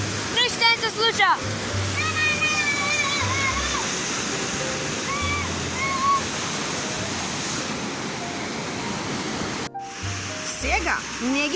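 Loud rushing water from a stream or waterfall on a mountain hike, a dense continuous roar throughout, with voices talking over it at intervals.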